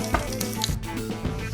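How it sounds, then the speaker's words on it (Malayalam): Coconut pieces frying in oil in a pan until brown, a steady close sizzle with occasional crackles and faint stirring scrapes throughout. "നമുക്ക് നല്ലപോലെ ബ്രൗൺ നിറമാക്കി ഇതൊന്ന് വറുത്തെടുക്കാം."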